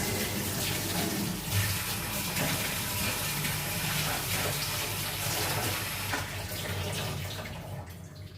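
Water pours steadily into a bowl mixture, a continuous splashing, gushing stream close by that runs on without a break.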